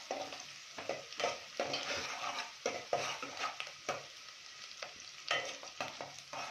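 Onions frying in a pan for gongura chicken, a steady sizzle broken by repeated scrapes and clinks of a spoon stirring against the pan, close and moderately quiet.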